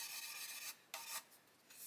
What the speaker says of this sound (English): while we're sanding